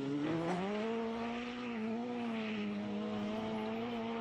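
A rally car's exhaust drones as it drives on snow, a sustained, tonal engine note that stays fairly even with slight pitch wavers and no talk over it.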